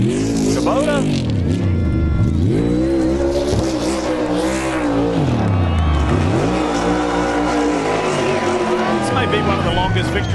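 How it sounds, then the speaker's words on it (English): A NASCAR Cup Series car does a long victory burnout in Kansas, engine revving up and down in repeated loud swells while tires squeal steadily, with a commentator talking over it. "Be one of the longest victory burnouts I've seen."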